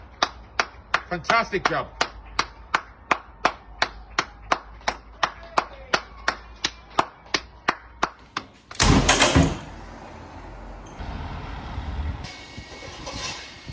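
Rhythmic claps ring out at a steady pace, about two per second, in a contest of clapping for the NHS, followed by a loud burst of crowd noise and a voice briefly speaking.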